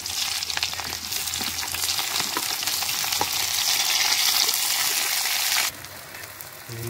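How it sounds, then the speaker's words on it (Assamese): Onions dropped into hot oil for Assamese pork curry, a loud steady sizzle and crackle of frying that runs nearly throughout, then drops suddenly quieter near the end. "এতিয়া পিঁয়াজখিনি দি দিওঁ তেল গৰম হৈ গ'ল"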